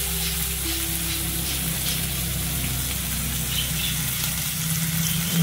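Spiced shrimp stuffing sautéing in a pan gives a steady sizzle and hiss with faint scraping of stirring, constant and close throughout, with no voices.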